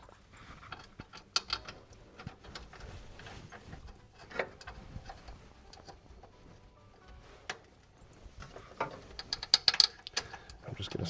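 A ratchet snugs up bolts on the synchronized transmission of a 1929 Ford Model A Roadster, giving sparse, intermittent bursts of close clicking with quiet pauses between them.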